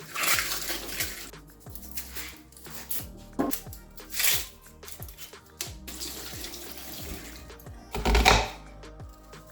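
Fresh leafy vegetables are washed under running water, with close splashing, rustling and handling noises in uneven bursts and a louder gush near the end, no talk over them.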